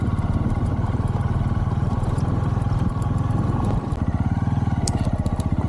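A motorcycle rides along a forest track past a freshly logged, bare clearing near Kedung Ombo, its engine a steady, close, loud drone with a fast pulsing rhythm that runs throughout.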